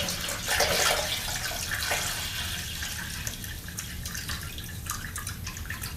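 Distilled water poured from a bottle into a container for an electrolysis setup, a steady splashing trickle that swells early and then settles into a continuous pour, close and fairly quiet, with no talking.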